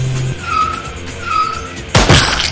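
A truck in a tornado-survival video game brakes hard and skids, producing a loud, harsh tire screech and scraping burst near the end, preceded by engine drone.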